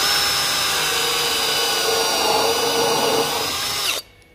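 A power drill without its bit spins in reverse through a giant sponge filter, a loud steady whine with grinding texture that runs continuously for about four seconds and then cuts off abruptly.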